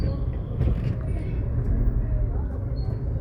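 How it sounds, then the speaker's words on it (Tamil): Low, muffled rumble of heavy traffic crawling along a crowded market road at Aavarampalayam in Coimbatore, India, with a few brief high tones like distant horns over the continuous murmur. "இப்போ எவ்வளோ டிராஃபிக் எப்படி இருக்கு பாருங்க"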